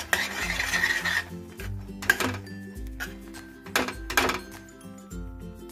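Flour is stirred into dough in a pan, giving repeated scrapes and dull knocks of a utensil against the metal over soft background music.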